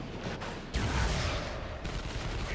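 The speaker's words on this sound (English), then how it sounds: "D cannon got a big shot on those Catachans there." A cannon shot booms out in the Dawn of War 2: Retribution strategy game, a loud low-heavy blast that hits partway through amid ongoing battle noise.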